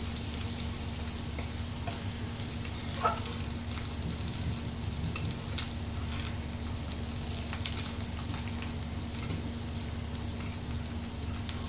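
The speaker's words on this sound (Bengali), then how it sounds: "এই রসুনটা লাল লাল করে একটু ভাজা হচ্ছে" Garlic sizzling in hot oil, a quiet continuous crackle with a few light scrapes, close by and without talk.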